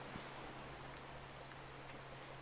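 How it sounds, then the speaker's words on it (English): Heavy rain in the tropical island survival game Card Survival, a faint, steady hiss of falling drops with no other sounds. "It's raining pretty hard."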